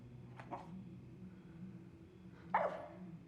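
A dog gives two short barks, a faint one early and a louder, sharper one near the end, over a low background hum.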